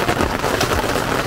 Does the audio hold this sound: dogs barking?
no